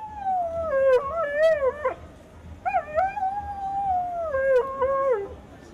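A large Alaskan Malamute howls in long, wavering, sliding tones, pausing briefly between drawn-out howls, loud and close against a low background rumble.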